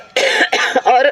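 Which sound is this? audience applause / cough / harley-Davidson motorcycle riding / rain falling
cough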